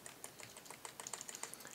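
Rapid clicking of a computer keyboard during an online Re-Volt racing match, irregular keystrokes with a few sharper louder clacks, close and alone without speech.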